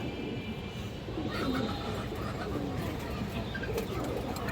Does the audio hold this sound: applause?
no